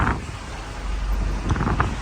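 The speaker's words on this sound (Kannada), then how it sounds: "ಗಾಳಿ ಸಹಿತ ಮಳೆ, ಸಿಕ್ಕಾಪಟ್ಟೆ ಗಾಳಿ ಇದೆ ಹೊರಗಡೆ" Strong wind roars steadily against the microphone in a dense, low rumble during a rainstorm with lightning, with brief gusts swelling near the end.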